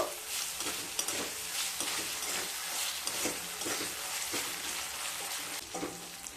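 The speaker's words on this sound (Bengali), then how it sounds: "আদা বাটা দিয়ে আবারও খুব ভালোভাবে কষিয়ে নেব।" Onion and ginger paste sautéed in a pan, giving a steady close sizzle with repeated scraping stirs roughly every half second, alone with no talk.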